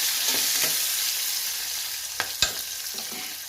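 Food is stirred and mixed in a hot pan with turmeric and salt, giving a steady sizzle with occasional scraping clicks of the spoon, close and alone without talk.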